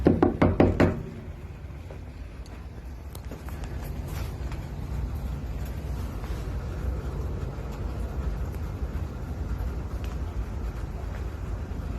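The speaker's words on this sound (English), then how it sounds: "so he's knocked on the door." Knocking on a door, a quick burst of loud raps right at the start, followed by a long stretch of steady low background rumble with no further knocks.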